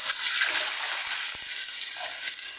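Plain water poured into a hot frying pan while cooking beef skin krecek with tolo beans, giving a bright sustained sizzle and bubbling hiss with a few soft knocks, close and steady with no talking.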